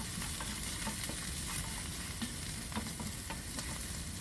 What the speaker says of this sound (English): Just quickly stir this. I don't want to burnt on the bottom, the garlic and ginger